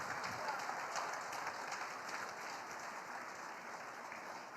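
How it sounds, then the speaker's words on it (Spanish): Faint, steady applause from a distant church congregation, a continuous wash of clapping with no voices standing out. "Vamos a darle un aplauso a nuestro Padre"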